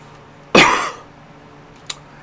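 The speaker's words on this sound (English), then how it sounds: "excuse me for coughing because I have a dry mouth at the moment" A single sharp, dry cough from a person with a dry mouth, close and loud, trailing off over about half a second, then a faint click.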